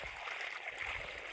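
Cold water from a solar-powered borewell on a farm runs in a faint, continuous rushing hiss that holds steady throughout.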